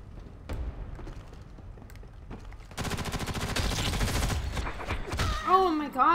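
Rapid automatic gunfire in the Ghost in the Shell multiplayer video game: a sustained burst of fast shots begins partway through, after a few scattered pops, with electronic game sound effects near the end.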